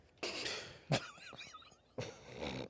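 A single sharp cough between stretches of close talking, short and abrupt.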